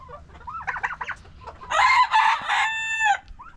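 Chickens cluck in a soft, uneven series early on, then a rooster lets out a loud, near crow with a long sustained tail in a morning farmyard.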